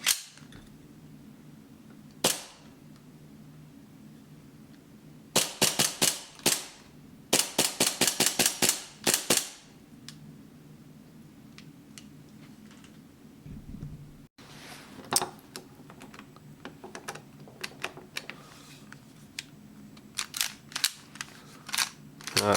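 Hi-Capa pistol with a short-stroke kit, its slide racked and cycling in sharp, snappy metallic clacks that come one at a time and in quick bursts, close and loud against a quiet background.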